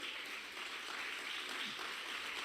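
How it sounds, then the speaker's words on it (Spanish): A church congregation claps together during a sermon, a steady, faint wash of applause heard from a distance with no clear individual claps. "Denle una fuerte ofrenda de palmas al Señor"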